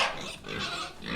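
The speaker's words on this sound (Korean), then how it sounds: "그날부터 밤마다 돼지는 큰 소리로 울었습니다." A pig squeals loudly in one harsh, noisy burst just over a second long, close and without other sounds around it.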